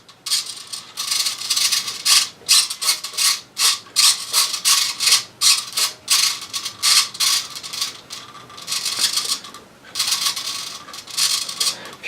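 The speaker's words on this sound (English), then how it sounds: "And now I've got servo steering." The steering servo on an HL RC truck turns the wheels back and forth. Repeated short whirring and ratcheting mechanical bursts come in quick succession, close up and loud, with brief pauses between them.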